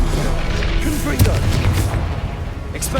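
Confringo spell blasts in Hogwarts Legacy, heavy booming impacts and explosive bursts rumbling over continuous combat noise, with one sharper crack near the middle.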